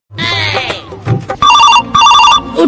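A telephone rings loudly in short electronic bursts, starting with a warbling ring, then two bright repeated chirping rings, with a voice briefly heard between them.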